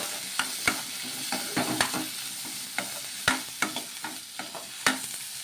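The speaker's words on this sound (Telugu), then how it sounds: "కొద్దిగా చింతపండు కూడా వేసుకొని ఒకసారి బాగా కలిపేసుకున్నాము" Green chillies, fresh coconut pieces and tamarind frying in a pan as they are stirred, with irregular scraping clicks of the spoon over a soft continuous sizzle, close and fairly quiet.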